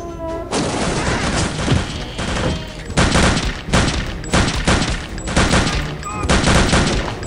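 Loud bursts of gunfire in the shooter game Return to Castle Wolfenstein, rapid volleys of shots and booms repeating over several seconds with brief gaps between them, dense and close with no talking.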